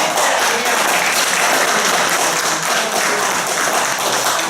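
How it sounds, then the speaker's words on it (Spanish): An audience at a debate on a new migration law applauds steadily, dense continuous clapping at a loud, even level throughout with no one speaking over it. "Entonces, un aplauso"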